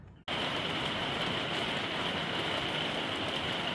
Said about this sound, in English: here comes the rain and cooler weather